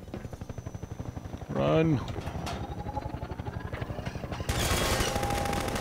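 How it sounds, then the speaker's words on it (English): Rapid automatic gunfire from enemies in Half-Life 2, a steady close rattling burst that continues throughout and gets louder near the end, with a shouted voice and other talking over it. "Stop shooting at me!"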